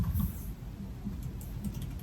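Fast typing on a computer keyboard, a short run of soft, rapid key clicks heard close up, with no talking.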